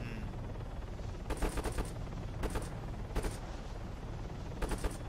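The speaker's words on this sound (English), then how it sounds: "We're already being shot at." Video game gunfire comes in four short, rapid bursts of automatic shots, fairly quiet and distant over a low steady background.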